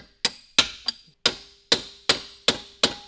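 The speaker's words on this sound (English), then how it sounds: "he is hammering the wheel studs out of the actual hub in order to make it easier for the wheel to drop down" Hammer blows knocking wheel studs out of the hub of a wrecked C6 Corvette, eight sharp metallic strikes at a steady, roughly even pace, close and ringing with no talking.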